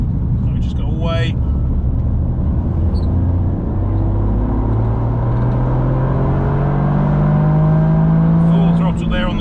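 A Toyota GR Yaris engine at full throttle on the Nürburgring Nordschleife during a track day, a loud continuous in-car drone climbing steadily in pitch as it accelerates, with brief talk at the start and end.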